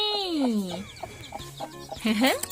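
A hen clucks and squawks nearby in a few rising, drawn-out calls, with brief chatter of people in the background.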